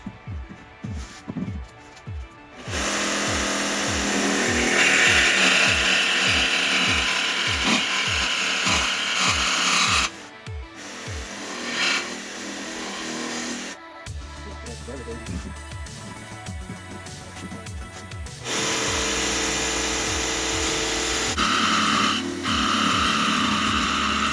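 A power tool cuts through a thick aluminum heat shield during a carburetor install. Rapid clicking at the start gives way to long, loud grinding bursts broken by short pauses.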